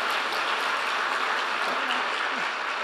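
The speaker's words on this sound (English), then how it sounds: "I'd like to ask for a big round of applause for these gentlemen" Loud, dense applause from a conference audience at an opening plenary, thanking a panel of gentlemen; the continuous roar of many hands fills the whole clip without a break and no one speaks over it.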